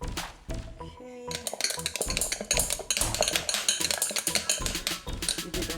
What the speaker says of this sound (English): You did a good stir.